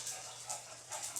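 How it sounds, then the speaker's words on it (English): Several dogs play inside a house kitchen, making faint yips and whimpers that come in short, scattered bursts from across the room. "My dogs are kind of playing over there."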